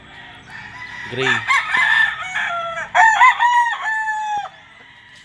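Several gamefowl roosters of the Sweater, McLean and White Kelso breeds crow loudly one after another at close range, their calls overlapping, with someone talking briefly among them.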